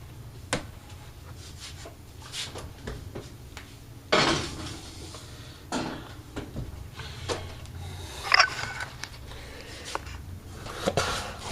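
A grandma-style pizza slides into the oven onto a pizza stone, with scattered clunks, scrapes and metallic clatters of moderate loudness over a low background hum.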